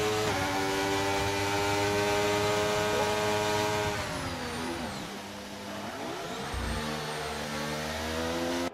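A racing car on track at pre-season testing in Spain gives a loud, steady high engine whine. Its pitch sags and thins midway as it passes, then the revving builds back up. No one speaks.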